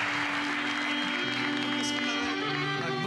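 A studio audience claps on a Turkish TV talk show, a steady wash of applause running the whole time with voices and a faint tonal hum mixed in.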